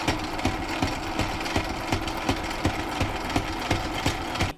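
A Sailrite sewing machine stitching slowly, its needle pounding out an even, repetitive thump about four times a second over a steady mechanical hum, close and fairly loud with no talking.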